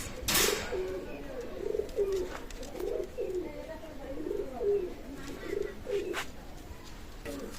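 Pakistani teddy pigeons coo in a steady, repeating rhythm of soft throaty calls, close by, with a sharp rustle near the start and faint background noise throughout.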